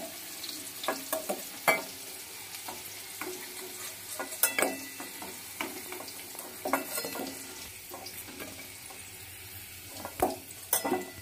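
Potato pieces sizzle steadily in a hot pan, softened and lightly browned, with a spatula stirring and scraping against the metal at irregular intervals. The frying hiss is close and moderate in volume, with no voices.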